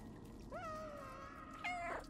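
Cat meowing in the video game Stray, two drawn-out meows, the second rising and louder, over a quiet low background hum.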